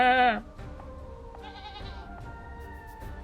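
Goat bleating in the fantasy strategy game Unicorn Overlord: one loud, strained bleat up front, then quieter game ambience with soft tonal sounds and a faint second cry.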